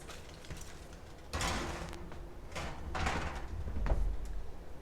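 A home oven door being opened and pans of popcorn slid inside, heard as a few soft thumps, a scrape and rattling metal, close and quiet with no speech.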